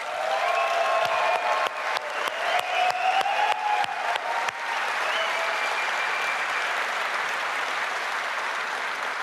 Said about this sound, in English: So let's hear it for Luke and Steve and Emmy and Mark